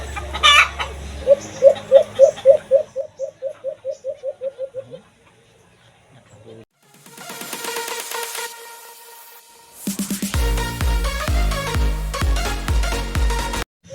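An Alimokon bird gives a loud series of rapid, rhythmic calls, then quieter rustling, followed by a burst of dense, layered sound.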